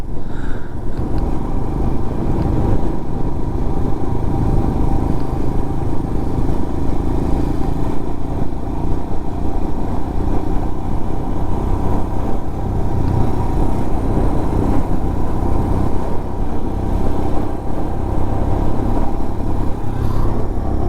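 A motorcycle rides steadily along a road in Ladakh, its engine a continuous loud rumble with wind and clatter throughout, no pauses or talk.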